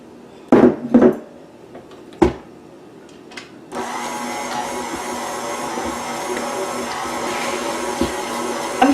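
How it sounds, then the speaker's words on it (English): A KitchenAid stand mixer starts up with cinnamon roll dough in the bowl, settling into a steady, close motor whir with a rhythmic hum. A few thumps and clatters come first, then the mixer runs alone without talk. "We're going to add it to the mixer."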